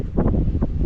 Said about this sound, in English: and it is windy, but it is gorgeous out